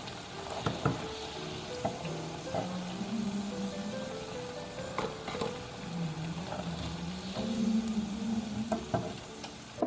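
Beetroot cutlets sizzle steadily in hot oil, browned and ready to lift out, with scattered clinks and scrapes of a utensil stirring and turning them in the pan throughout.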